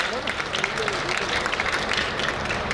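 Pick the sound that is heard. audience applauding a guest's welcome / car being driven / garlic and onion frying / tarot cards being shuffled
audience applauding a guest's welcome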